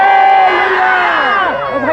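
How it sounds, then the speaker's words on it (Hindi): A large congregation at a Christian festival gathering in Jagdalpur shouts together in a loud, sustained unison cry lasting about two seconds, close and powerful, trailing off at the end. "आइए हम जोर से हालेलुया का नारा लगाएंगे।"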